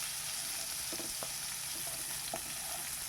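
Potato and cauliflower pieces fry in oil with a steady, faint sizzling hiss and a few soft clicks of a spatula stirring them.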